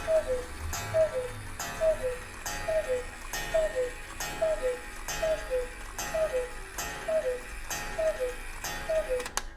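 An antique cuckoo clock strikes twelve: about a dozen evenly spaced two-note cuckoo calls, each with a soft chime or gong beneath, over quiet background ticking.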